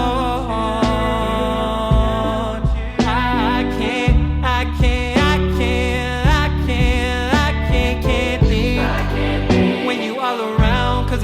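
A finished, mastered indie soul track plays with a full band of drums, bass, chords and a lead melody. The mix is loud and steady, with no talking over it.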